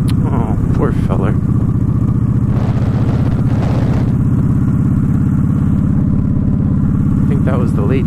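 A custom motorcycle with a Conquest Customs exhaust idles close by with a loud, steady low rumble, while people talk over it intermittently.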